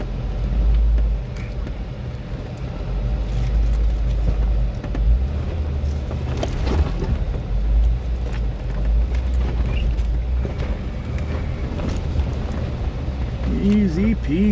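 An off-road vehicle crawling over rocks on a creek trail, a loud low engine rumble that swells and eases as the tires climb, with scrapes and bumps along the way and people talking over it.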